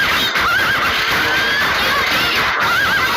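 A horse whinnies in a Patapon video game trailer, the high wavering neighs repeating over a loud, dense backdrop of game music and battle noise.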